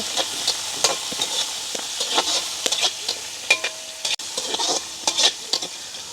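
Sliced onion and green chilies stir-fried in a pan for a village-style fish curry, a sizzling hiss broken by repeated scraping strokes of a spatula, close and steady with no talk.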